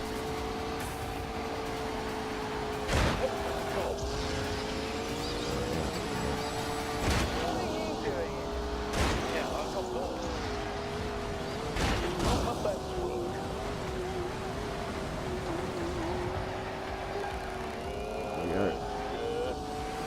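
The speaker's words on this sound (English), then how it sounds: "Massive power slide around that corner there." A racing car in The Grand Tour Game power-sliding hard around a corner, its engine droning and shifting pitch steadily throughout, with several sharp thuds and bangs punctuating the run and a voice commentating over it.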